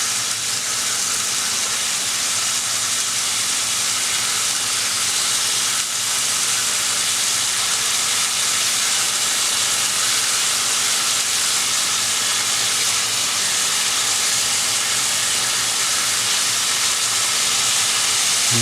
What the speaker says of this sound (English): hopefully this won't take too long to actually fry up, because I have cut these slices pretty thinly